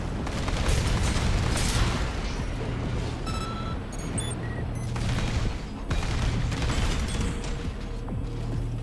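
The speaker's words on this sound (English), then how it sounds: "Oh, we have a machine gun." Sustained machine gun fire from a mech in the video game Armored Core 6, a loud continuous rattling barrage with booming impacts and occasional electronic interface tones, no talking.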